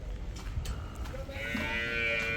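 A single long, low buffalo lowing call rises out of a noisy background in a shed at a cattle market and carries on to the end, sounding fairly close.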